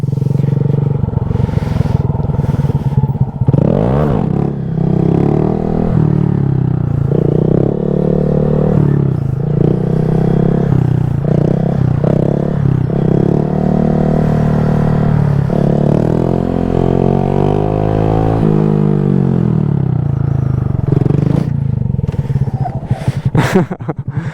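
A Honda Grom 125cc motorcycle engine drones loudly and close while being ridden, its pitch climbing and dropping through revs and gear changes, with some clattering and wind noise around it.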